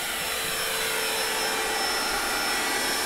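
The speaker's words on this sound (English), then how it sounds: "Here comes the vacuum." A vacuum cleaner runs continuously with a loud, steady broadband whoosh and a thin high whine, close by and unbroken for the whole stretch, with no voices.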